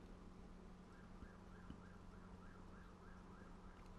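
Faint police sirens wailing in the distance within the Final Fantasy VII game, a soft repeating rise-and-fall tone sitting under a steady hum of background noise throughout.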